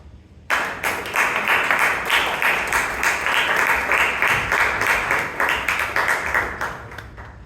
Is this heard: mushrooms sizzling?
no